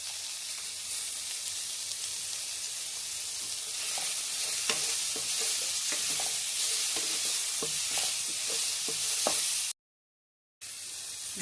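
Onions frying in a pan, salted, give a steady close sizzle throughout, with scattered scraping stir clicks and a brief cut to silence near the end.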